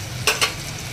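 Spices and salt frying in hot oil for a tempering while cooking a tomato methi curry, giving a brief steady sizzle with two quick louder spits of crackle near the start.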